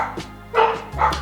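Two or three loud, nearby dog barks come in rapid succession, short and punchy.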